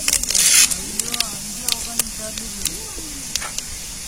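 Cumin seeds and chana dal sizzling in hot oil for a ladies finger fry, a hissing burst at first that settles into a faint crackling sizzle with scattered pops, under someone talking.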